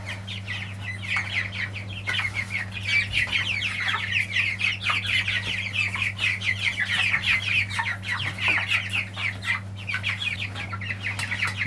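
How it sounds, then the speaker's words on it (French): Silkie chickens cluck and call repeatedly at close range, in irregular bursts over a steady low mechanical hum. "Les poules soies, c'est des coqs."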